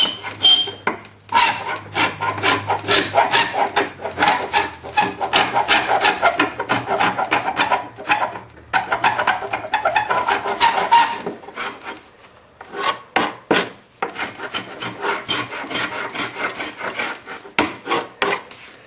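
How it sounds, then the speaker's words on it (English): Scraper rasping across softened paint on a wooden window sash during deglazing, a loud continuous run of rough scraping strokes with brief pauses between passes, no talking. "So I'm only going to scrape where there's been paint."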